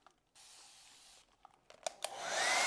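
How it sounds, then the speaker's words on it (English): A fine mist sprayer releases Spectrafix fixative over a pastel and colored pencil drawing: a soft, close hiss of about a second, then a few small clicks before a hair dryer whooshes on at the end. "I'm going to use Spectrafix, and I've got it in this fine mist sprayer."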